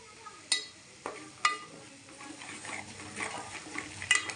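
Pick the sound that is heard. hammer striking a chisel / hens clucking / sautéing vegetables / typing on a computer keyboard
sautéing vegetables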